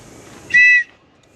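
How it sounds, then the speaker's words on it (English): One short, shrill blast from a safety whistle, loud and close, lasting about a quarter second against a quiet background. "When I have a safety whistle, if I need help"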